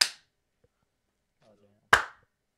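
A sharp synchronizing clap for lining up audio, struck twice: one loud snap at the start and another about two seconds later, with near silence between.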